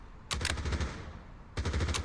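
Two quick bursts of rapid video game gunfire in Pavlov VR, a few shots each, separated by a short pause, loud and close.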